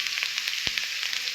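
Onion, salt and turmeric go into a pan of frying pangas fish curry, producing a steady, close hissing sizzle with a single soft thump partway through.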